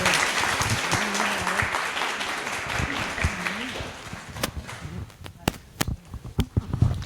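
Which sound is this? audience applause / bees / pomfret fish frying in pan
audience applause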